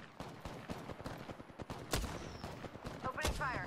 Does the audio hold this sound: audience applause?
no